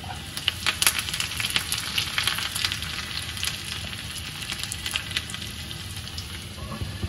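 Garlic and curry leaves sizzle in hot tempering oil for a Maharashtrian mixed dal, a close, continuous crackling hiss with frequent spitting pops and no talk.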